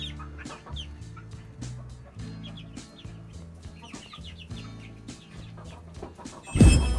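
A flock of hens, white-crested Polish and lavender birds, clucks near and steadily with overlapping low croons and short calls, ending in a loud close rustle or bump.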